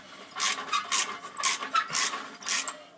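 Exhaust manifold bolts on a 1983 GMC 350 being tightened by hand, a series of short rasping ratchet strokes in an uneven rhythm, close and fairly quiet with no talk.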